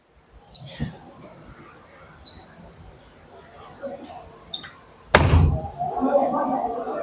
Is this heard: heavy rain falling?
no